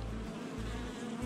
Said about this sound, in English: The bees are there.